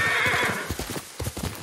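A ridden horse galloping in the video game Ghost of Tsushima, quick rhythmic hoofbeats close by, preceded by a brief whinny, with no talk over it.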